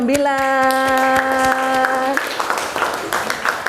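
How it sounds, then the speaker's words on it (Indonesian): Classmates clap for a student group in a high school class, a burst of scattered hand claps following a sustained held voice tone, with talk around it. "Tepuk tangan untuk kelompok"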